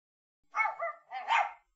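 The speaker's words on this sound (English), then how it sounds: "where's all that barking and yapping coming from?" Puppies give two quick, close yaps, high and bright, one right after the other, with nothing else around them.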